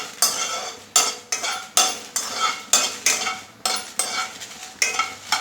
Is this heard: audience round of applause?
no